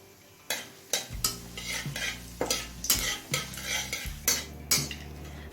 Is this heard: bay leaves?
yes